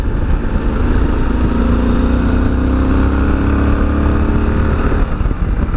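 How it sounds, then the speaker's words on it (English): Engine note of a 2017 Yamaha XT1200Z Super Tenere motorcycle, a steady loud drone with a low rumble and a slowly rising pitch, heard alone without talk. "Got a lovely engine note, and the engine's got loads of go as well."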